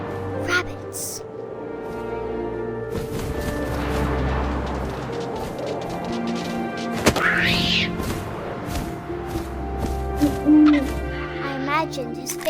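An owl hoots in What Remains of Edith Finch, heard alongside wind and a series of sharp impacts and crashes, with a narrator speaking over the scene.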